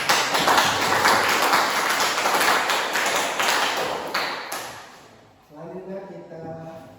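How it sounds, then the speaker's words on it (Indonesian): Group applause in a classroom for group 1, steady dense clapping from many hands for about five seconds, fading out as a voice starts speaking. "Kita beri aplaus untuk kelompok."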